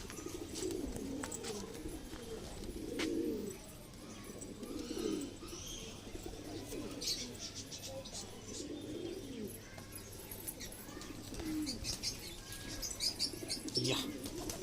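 Soft cooing of high flyer pigeons repeats over a busy background of flapping wings and light chirps, close by and moderately quiet.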